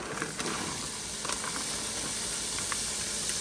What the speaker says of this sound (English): our onions are translucent, and they're browning around the edges, so we're gonna go ahead and put our corn in